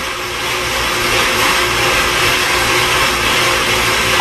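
An electric grinding machine milling spices gives a loud, steady, close-up whir that holds an even roar throughout with no pauses.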